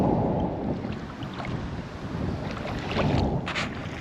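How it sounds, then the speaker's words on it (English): Breezy wind sweeps across a small woodland lake in fall, a steady loud rushing roar buffeting the microphone throughout with no pauses. "Definitely a bit breezy out."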